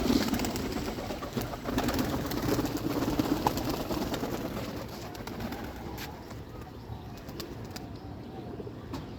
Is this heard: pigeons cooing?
yes